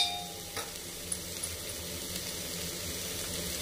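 Cauliflower, potato, carrot and soybean frying in a pan, giving a soft continuous sizzle with faint stirring clicks, quiet and close, with no talking.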